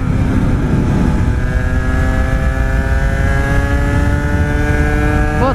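A small motorcycle of about 11 kW, licensed for A1 riders, holds a loud, rising engine note while being ridden, climbing steadily in pitch before a quick wobble at the end, with wind rush underneath.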